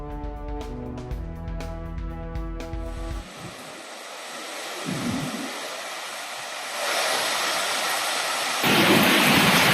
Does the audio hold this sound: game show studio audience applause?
no